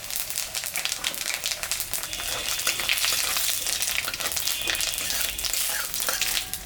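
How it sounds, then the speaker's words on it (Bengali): Cumin, white and black, and dried red chillies sizzling as a tempering in hot oil left from frying fish, with a loud, dense, continuous crackle, near and close-up, occasional stirring scrapes and no talk. "মাছ ভাজা তেলের উপরে জিরা, সাদা জিরা, কালো জিরা আর শুকনো লঙ্কা সম্বরা দিলাম"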